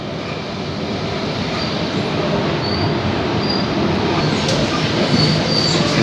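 A Sydney train rolls along its rails in a loud, continuous rumble with faint squealing wheels, heard from inside the carriage with no talking.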